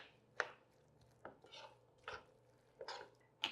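Chicken salad made with rotisserie chicken being stirred in a bowl, a handful of quiet, separate scraping clanks from a utensil against the dish, spaced about a second apart.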